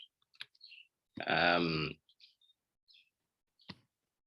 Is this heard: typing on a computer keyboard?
yes